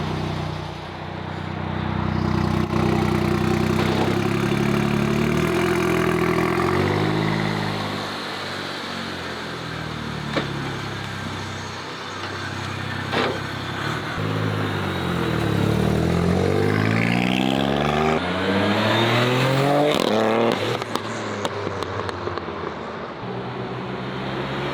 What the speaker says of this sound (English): we drove around the parking lot a little bit